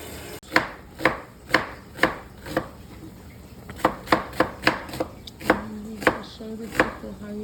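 Knife chopping onions into julienne on a cutting board in a home kitchen, about fifteen crisp, close, evenly paced knocks with a brief pause midway.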